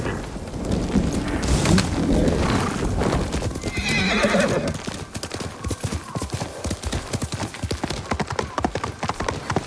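A horse in Ghost of Tsushima whinnies loudly near the start, its hooves clip-clopping in a steady rhythm on the ground throughout, with a brief voice exclaiming partway through.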